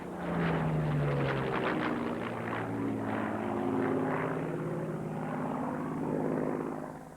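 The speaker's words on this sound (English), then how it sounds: "here is the Spitfire with R.J. Mitchell's now classic wing." A Supermarine Spitfire with the Battle of Britain memorial flight flying past at the 1981 International Air Tattoo air show, its propeller engine roaring close and loud, the pitch sliding down as it passes.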